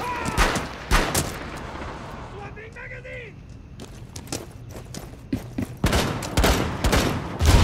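Gunfire in Rainbow Six Siege: several loud bursts of shots close by, mixed with footsteps and game effects, with people talking over the action.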